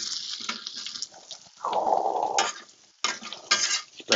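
Bacon cooks on a grill with bursts of sizzling and scraping as it is moved around, broken by short pauses, close and moderately loud, with no voices.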